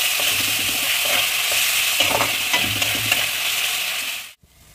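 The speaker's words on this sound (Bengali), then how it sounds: "এতে রসুন আর আদা আমি পেস্ট করে নিয়েছি, এটা আমি দিয়ে দেবো এর মধ্যে। দিয়ে ভালোভাবে এর সাথে কষে নেব।" Onion with garlic and ginger paste sizzles in a pan while being stirred, with scraping strokes over a constant hiss, then cuts off abruptly near the end.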